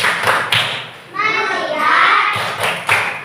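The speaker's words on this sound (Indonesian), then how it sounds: "tepuk konsentrasi." Schoolchildren in a classroom shout a concentration clapping chant, sharp group claps and desk thumps punctuating their sung voices in a quick rhythmic pattern, loud and near.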